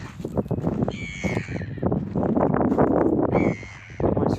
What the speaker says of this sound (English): little seabirds make the seabird noise